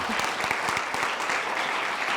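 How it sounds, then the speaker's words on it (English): An audience applauds during Preston Pulliams's speech at the 2013 Anderson Conference, a brief, steady round of clapping from many hands at moderate volume. "he deserves a round of applause for that"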